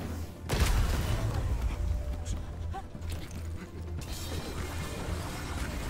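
A loud, sudden blast from a rocket in Wasteland 3 with a deep rumble that decays over several seconds, followed by a second, softer impact near the end while a voice talks throughout.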